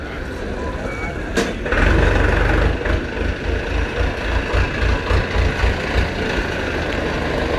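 An HMT tractor engine idles among a large gathering of tractors, a steady low rumble with a brief louder surge and a rhythmic chug, under nearby voices.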